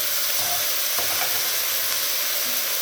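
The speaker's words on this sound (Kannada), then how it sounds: "ಈಗ ನಾನು ಏನು ಕುಯ್ಕೊಂಡು ಇಟ್ಕೊಂಡಿದ್ದೀನೋ ಆ ಟೊಮೆಟೊನ ಹಾಕ್ಕೊತಿದ್ದೀನಿ" Chopped tomato hitting a hot frying pan, producing a steady, close hiss of sizzling with a few soft stirring clinks, no talk over it.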